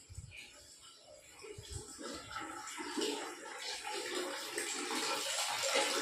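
Water pours steadily into a bucket, the rushing splash growing fuller and louder as it fills.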